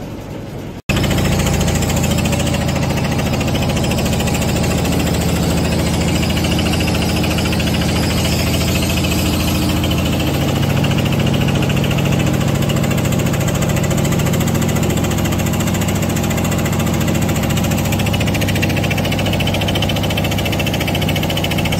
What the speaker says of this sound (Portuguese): motor aqui, pessoal, parece um motor de trator. Deve ser mesmo muito barulhento o barco.